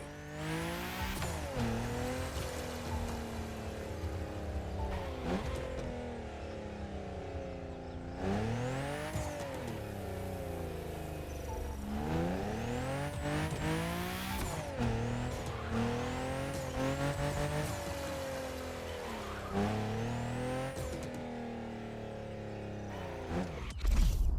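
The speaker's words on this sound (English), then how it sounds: "The car you're about to drive in this opening event is none other than the first Ferrari in the supercar bloodline, the Ferrari GTO." A Ferrari GTO supercar races in The Crew Motorfest on PS5, its engine note climbing and dropping through repeated gear changes, loud and continuous with brief tire squeals.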